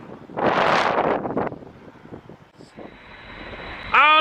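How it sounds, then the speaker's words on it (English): A B-52 bomber taking off at very close range, a roaring burst of engine noise and wind buffeting that fades into a thinner whine, then a sharp rise at the end. "seeing this B-52 take off at very close quarters indeed"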